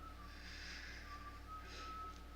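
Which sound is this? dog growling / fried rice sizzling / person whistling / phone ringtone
person whistling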